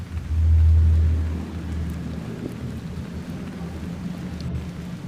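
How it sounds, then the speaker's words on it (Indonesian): Heavy rain pours steadily in the Radiation Island survival game, a dense broadband wash with a deep low rumble swelling in the first second before settling into constant downpour, no voices. "lihat hujannya makin deras"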